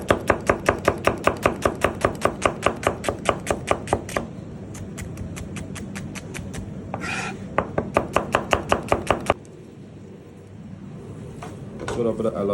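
A knife chops onion into julienne strips on a board, a fast, even run of close, crisp knocks that pauses, resumes briefly, then ends.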